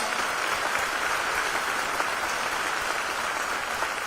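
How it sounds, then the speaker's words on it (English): Steady, dense applause from a crowd at a guitar smash event at Hard Rock Hotel & Casino Bristol, sustained at an even level throughout with no voices standing out. "Give him a round of applause."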